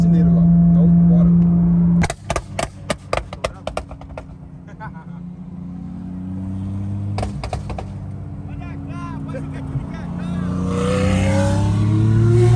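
A car in the United States accelerates hard from a stop, its engine roaring and rising in pitch through several gear changes, loud and close, with people talking over it.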